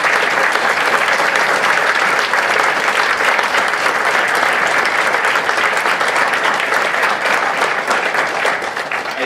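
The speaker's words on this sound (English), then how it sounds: "take a round of applause" An audience at a biotechnology master's graduation ceremony claps in sustained, dense applause that stays loud and even from start to finish.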